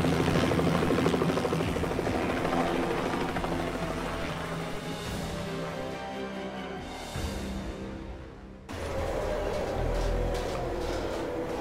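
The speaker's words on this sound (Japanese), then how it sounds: "ここで、ヘリで脱出したら、" Helicopter rotor and engine roar loudly and steadily throughout a Hitman mission escape in Hokkaido, dipping briefly near the end before surging back, with no talking.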